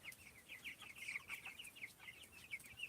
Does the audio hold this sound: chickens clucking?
yes